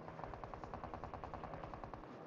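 Faint, rapid automatic gunfire rattles in a steady burst, distant and muffled under a constant background hum.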